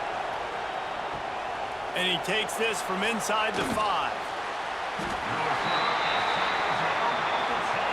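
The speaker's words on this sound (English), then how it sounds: "The roar of the crowd trying to fuel this defense to keep them pinned in their own end." Stadium crowd roaring at an AAF football game between the Salt Lake Stallions and Seattle Dragons, a broad steady roar throughout that swells near the end, with a commentator's voice over the middle.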